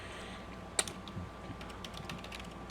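Typing on a computer keyboard, a steady run of soft, close key clicks with one sharper tap near the start and no voices.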